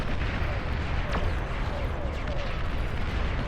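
Dense, continuous rumbling artillery barrages in Beyond All Reason, a large 8v8 battle, with booms and explosions blending into a steady roar and a few distinct whistling shells passing overhead.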